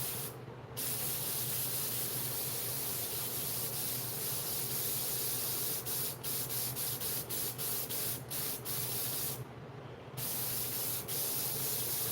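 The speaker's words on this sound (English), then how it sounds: "So when you spray this stuff on, you gotta do it quick" A continuous, close airbrush hiss spraying paint on a Symbiote Spider-Man model base, with a couple of brief pauses and some short ticking sounds partway through.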